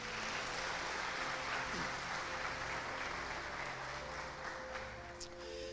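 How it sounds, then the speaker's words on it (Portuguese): A congregation claps steadily throughout a church service, a dense, sustained round of applause in a large room with faint voices underneath. "Você pode aplaudir o Senhor Jesus?"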